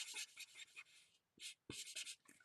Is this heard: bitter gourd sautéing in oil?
no